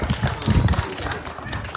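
Audience applause at an annual company function, dense overlapping claps swelling in the middle and tapering off, with a voice speaking over it.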